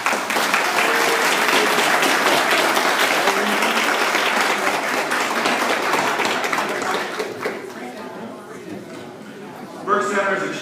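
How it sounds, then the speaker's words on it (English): A room full of people at a community reception claps together in dense, sustained applause that gradually thins out, with a brief renewed burst near the end and voices mixed in. "let's give each other a round of applause"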